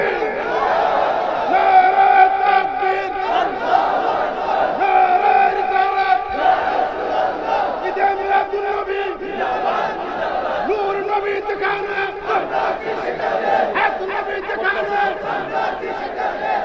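A large crowd at a religious rally in Nasirnagar chants a slogan in unison, loud rhythmic massed voices repeating over a public address system, sustained and echoing, with some scattered laughter.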